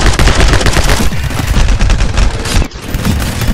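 Rapid, loud bursts of gunfire from the video game My Friend Pedro rattle almost continuously, with a brief break near the end before the shots resume.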